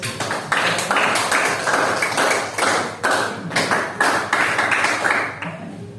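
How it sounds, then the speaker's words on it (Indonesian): Small group of students in a classroom clapping hands together, a dense burst of fairly close, uneven claps over about six seconds with a few brief pauses, fading near the end. "Beri tepuk tangan dulu untuk"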